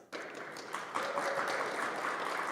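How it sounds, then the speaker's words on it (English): Audience applause at a business panel session, greeting the moderator and panelists: steady, dense clapping from a sizeable crowd that swells after about a second and holds at an even level. "Give them a huge round of applause."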